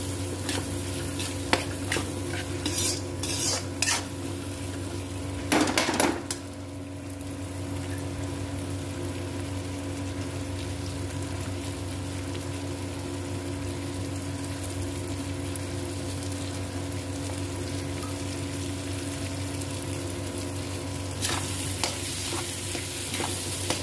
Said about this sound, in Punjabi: ਪੰਜ ਮਿੰਟ ਅਸੀਂ ਫਰਾਈ ਕਰਨਾ ਹੈ ਮਟਰ